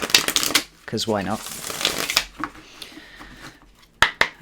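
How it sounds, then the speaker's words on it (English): A Deviant Moon tarot deck is shuffled by hand in several quick, crisp bursts of riffling cards, close to the microphone, with short pauses and a brief spoken remark between them. "I'll give this another good shuffle just because"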